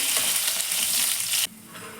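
Cumin, curry leaves and green chilies fry in a hot pan, a bright dense sizzle that cuts off sharply partway through, leaving only a faint low crackle.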